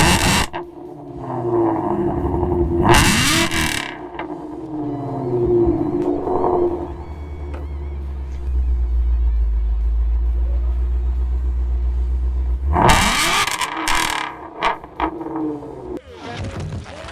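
Shelby GT350 Mustang V8 with an 8,250 RPM redline, revving hard. A deep, loud engine rumble holds steady and swells through the middle, framed by sharp roaring bursts near the start and end.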